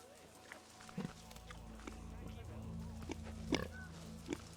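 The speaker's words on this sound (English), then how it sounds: "Oh my god, listen to these little oinks." Small pigs in the zoo-building video game Planet Zoo oink and grunt in short, soft snorts scattered across the moment, with faint hoof-like steps and an ambient game background.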